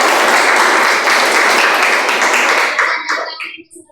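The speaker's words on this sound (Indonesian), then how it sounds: "Tepuk tangan untuk kelompok" A room full of people claps in a dense burst of applause that holds steady, then thins to a few scattered claps and fades out.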